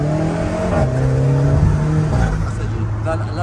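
An Alfa Romeo car engine revs and accelerates nearby, pitch rising and shifting, with a voice speaking over the engine noise.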